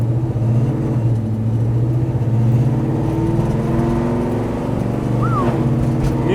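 A 1968 Mustang Fastback restomod with a 5.0 Coyote V8 pulls away slowly, its deep steady engine rumble close and continuous, with a brief faint squeak near the end.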